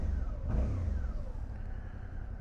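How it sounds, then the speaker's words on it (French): A Suzuki V-Strom 650 motorcycle engine running nearby, a low rumble that briefly swells as it revs, then settles back to a steady, fairly quiet idle-like drone. "j'aime bien la sonorité de cette moto"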